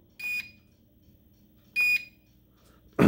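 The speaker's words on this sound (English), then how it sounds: "You'll hear a beep. It'll be armed." Two identical short electronic beeps from an RC plane's speed controller arming, spaced over a second apart in quiet, then a sudden louder burst at the end.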